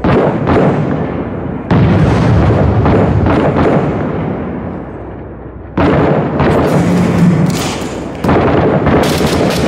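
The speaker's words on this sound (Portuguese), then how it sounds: "Eu vou jogar a granada ali." Heavy booming blasts and gunfire rumble in Six Days in Fallujah after a grenade is thrown, loud bursts at intervals with decaying roars and sharp crackling impacts between them.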